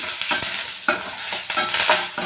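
Turmeric being stirred into a frying mixture with salt in a pan while cooking coriander rice, with repeated scraping strokes over a steady close sizzle and no talking.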